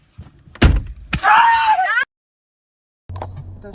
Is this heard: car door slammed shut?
yes